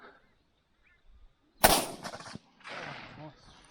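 Single loud rifle gunshot during a pig hunt outdoors, a sharp crack followed by a short decaying echo, with low voices murmuring before and after.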